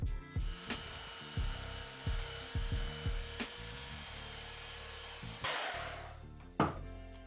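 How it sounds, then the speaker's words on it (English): A hefty belt sander fitted with a coarse 36 grit belt grinds paint off timber, whining steadily while repeated scraping strokes and knocks punctuate it, close up and with no speech. "the belt sander does remove the bulk of the paint"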